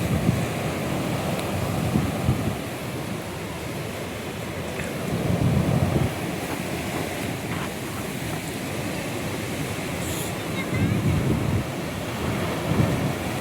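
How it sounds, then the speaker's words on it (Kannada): Sea waves crash onto a rocky shore of rounded boulders at Ullal beach near Mangalore, a continuous loud surf roar swelling in repeated surges with wind noise on the microphone and no talking. "ಸಮುದ್ರ ಗೋಗರೆಯುತ್ತಿದೆ ಸೌಂಡು"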